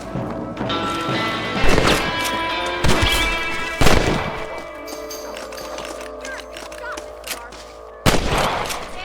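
Rifle shots crack out in a Red Dead Redemption shootout, four loud blasts spaced a couple of seconds apart over a steady bed of game ambience, with hoofbeats and music running underneath.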